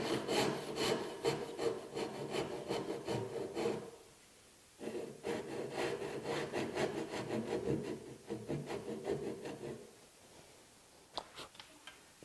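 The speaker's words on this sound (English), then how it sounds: "next up we just have to go ahead and cut our little tabs off" A hand saw cuts the small tabs off a wooden mortise-and-tenon joint, making quiet, rhythmic back-and-forth rasping strokes in two runs separated by a short pause, then a few light taps.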